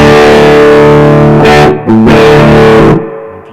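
Overdriven electric guitar played through a tube amp with its volume knob rolled up for gain, sustained distorted chords ringing loud and alone, with a brief break before a final chord that cuts off near the end.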